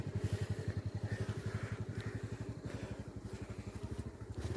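A motorcycle climbs a slippery mountain road in fog, its engine chugging in a fast, even beat with a faint, low rumble and no talk.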